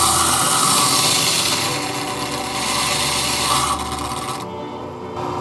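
A stone die is ground down against an abrasive in a workshop, making a continuous rough rubbing and rasping sound. It is steady and fairly close, with slight shifts in intensity as the stone moves.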